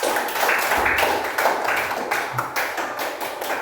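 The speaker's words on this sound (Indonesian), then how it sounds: "Tepuk tangan buat kelompok 4." A classroom of pupils claps for a group in a steady, dense burst of applause that runs the whole stretch at moderate loudness, with no talking over it.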